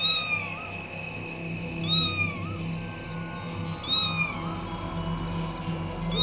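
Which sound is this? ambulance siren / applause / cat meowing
cat meowing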